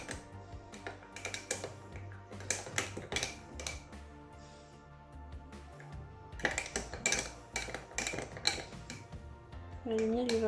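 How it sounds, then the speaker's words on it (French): A spoon stirs half a teaspoon of honey into a dish, making repeated light clinks and scrapes against the bowl, close and fairly busy, with kitchen handling noises around it. "Ensuite je touille."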